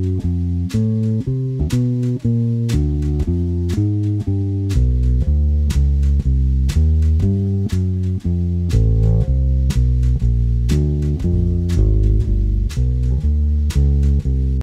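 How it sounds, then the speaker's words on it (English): A walking bass line built from roots, thirds, fifths and chromatic passing notes moves in steady quarter notes over chords, with a full backing track playing along throughout, with no one speaking. "root three, five, chromatic note equals awesome walking bass"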